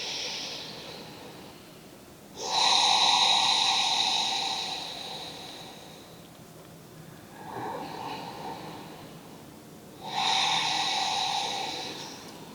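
A person in a prenatal yoga session takes slow, deep breaths, each long airy inhale or exhale lasting a couple of seconds, close and soft, repeated three times with quiet gaps between.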